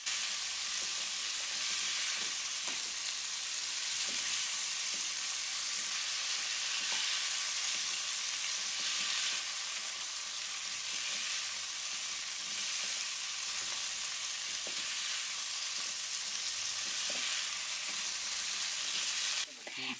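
Chicken pishpash mixture fries in a pan with a continuous bright hiss of sizzling oil, steady and close for a long stretch, with faint occasional clicks of stirring.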